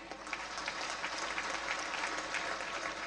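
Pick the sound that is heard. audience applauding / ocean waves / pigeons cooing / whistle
audience applauding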